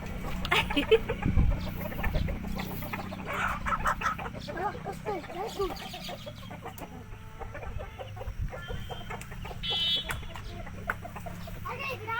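A village rooster clucks and squawks nearby in short bursts among the farm yard, with people chatting over and between its calls.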